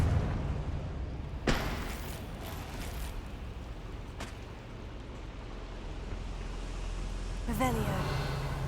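A Confringo blasting spell goes off in the video game Hogwarts Legacy, a few sharp booming bursts over a low rumbling game ambience, with a voice speaking between them.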